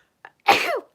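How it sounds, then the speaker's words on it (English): One short human sneeze, close and sharp, preceded by a faint intake of breath and bursting out loudly before fading within a fraction of a second. "And I got a sneeze."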